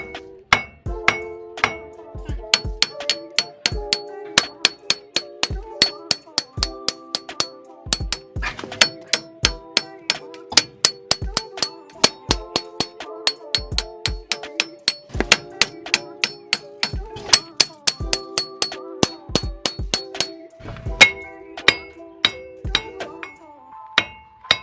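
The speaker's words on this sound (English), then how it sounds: "So just grab your hammer." Hammer repeatedly striking a stuck front wheel hub assembly on a 1999–2006 Chevy Silverado 1500, a long run of loud, sharp metallic blows with ringing clangs at an uneven, fast rhythm.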